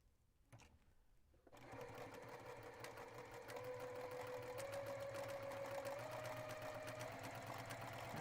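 A sewing machine stitches quilt pieces together along an edge for a knot block, starting after a brief pause with a quick, steady mechanical whir that runs fast and close.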